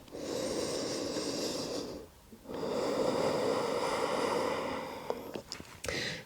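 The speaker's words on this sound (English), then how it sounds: "Exhale." A long, forceful exhale through the nose during a power vinyasa yoga flow, followed by a short pause and another sustained breath. The breathing is close and noisy, with a few faint small noises near the end.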